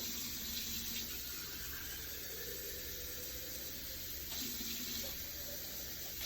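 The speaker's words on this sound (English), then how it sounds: "So what I'm going to do is fill up the jar with hot water real quick." Hot tap water runs steadily into a glass jar at a kitchen tap, a continuous close rushing stream filling it about halfway, with no talking over it.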